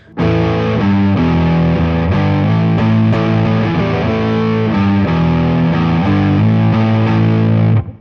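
Electric guitar chords played through the warm overdrive setting of a BOSS MS-3, loud and sustained, strummed in a steady progression with no voices.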